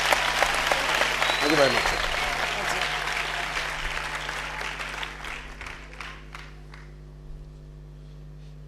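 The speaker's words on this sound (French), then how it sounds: "Clap your hands." An audience claps steadily at a church gathering, loud and sustained at first and then thinning out and fading. Someone speaks briefly over the applause.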